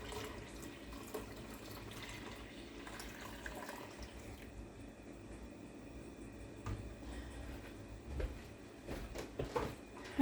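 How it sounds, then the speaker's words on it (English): Cranberry juice poured from one container into another during homemade cranberry juice making, a steady low liquid stream running continuously at close range with brief clinks and handling noises toward the end, no talking. "I'm now going to pour this juice into that juice."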